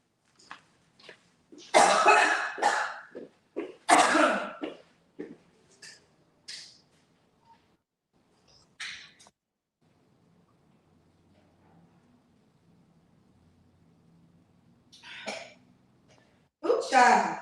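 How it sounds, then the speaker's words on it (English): Several harsh coughs and throat clearing in bursts close to the microphone, separated by quiet pauses, with another cough cluster near the end. "Because I keep coughing."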